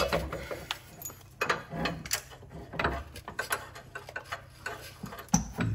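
Clutch-style ratchet clicks tighten a bolt during coilover installation on a BMW M2, M3 or M4, with irregular close ticking bursts over a quiet workshop background.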